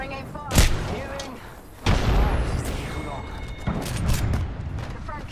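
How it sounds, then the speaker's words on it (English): Gunfire in the shooter game Apex Legends: two sharp booming shots followed by rattling bursts and whizzing projectile sounds, loud and close, with voices talking in between. "Taking fire."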